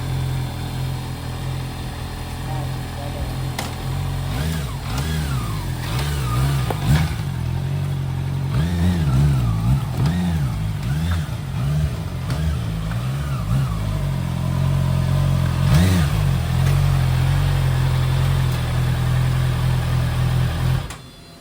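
A Honda CBR650R motorcycle engine idles steadily close by and is revved in a run of quick rising and falling blips midway, then settles back to idle before cutting off.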